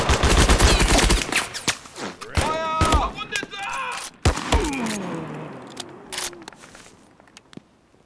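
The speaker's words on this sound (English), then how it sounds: "Concentrate your fire!" Soldiers firing rapid bursts of gunfire in the video game Mud and Blood, sharp repeated cracks and thuds clustered early, thinning out toward the end, with voices shouting over the shooting.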